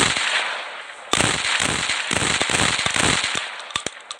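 Rapid bursts of modded weapon gunfire in Minecraft, a steady stream of sharp cracking shots after a brief quiet opening, loud and close with a crackling, firecracker-like texture and no talking.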